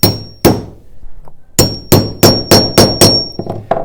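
A punch tool hammered through a leather bar stool seat: a series of sharp metallic strikes, two spaced blows and then six rapid regular ones, loud and close with a faint ringing tone.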